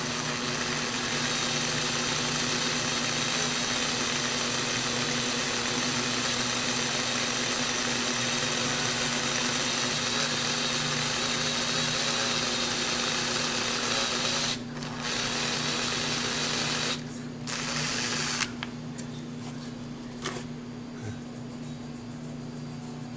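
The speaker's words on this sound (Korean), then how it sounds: "콕 친 자리에다가 얘를 대고 이제 구멍을 먼저 뚫어볼게요" Electric drill boring a small pilot hole into metal at a punched mark, a steady whirring drone held for about fifteen seconds before it stutters and cuts in and out, with no talk over it.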